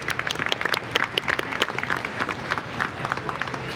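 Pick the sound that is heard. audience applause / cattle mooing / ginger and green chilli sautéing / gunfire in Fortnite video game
audience applause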